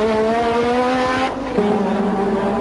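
Formula 1 race cars at the 1986 Monaco Grand Prix, with a McLaren engine droning at high revs, then a brief dip and a shift to a new steady pitch, loud and close with no talking.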